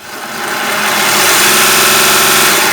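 A Bucktool 1x30 belt and disc sander with a conditioning belt fitted spins up and runs loud and steady, a dense whirring motor hum with belt hiss that rises over the first second and then holds, no voices.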